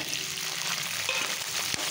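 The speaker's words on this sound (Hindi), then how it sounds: "अब इसको हम निकाल के आलू भी फ्राई कर लेंगे।" Potatoes for aloo gobhi sizzle steadily in hot oil in a pan, a continuous close crackling hiss with a faint scrape near the end.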